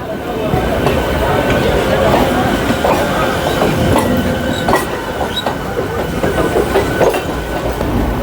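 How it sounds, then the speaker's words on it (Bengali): A Bandel-bound local train pulls out of Howrah station, its wheels clattering and squealing over rail joints in a loud continuous roar, with station voices murmuring underneath. "আর এই আর একটা পিঙ্কি ছেড়ে আসছে হাওড়া স্টেশন থেকে, এটা যাচ্ছে ব্যান্ডেল জংশন"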